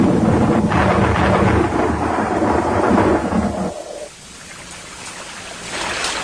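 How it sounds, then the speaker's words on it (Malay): Rain begins falling in a cartoon, a dense, steady hiss of downpour with a rumbling undertone that abruptly thins and quiets partway through, then swells slightly again. "Alamak, hujan pula dah."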